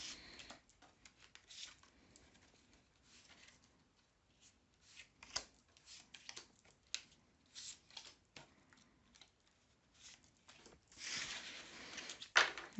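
Tarot cards are shuffled and drawn by hand in soft, papery riffles and slides, some short and scattered, with a fuller brushing flurry near the end, all quiet and close.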